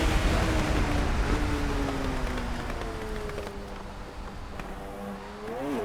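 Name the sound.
racing car engine and tyres in a video game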